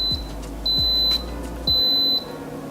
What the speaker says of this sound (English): The Instant Pot just beeped.